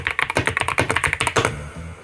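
Fingers type quickly on a mechanical keyboard with Gateron white linear switches, a dense close patter of clacking keystrokes that slows and fades near the end.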